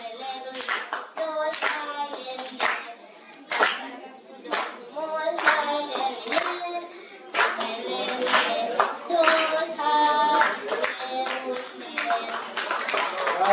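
Hands clap in applause after a Christmas carol performance, a dense rhythmic patter of claps with voices mixed in, close and lively throughout.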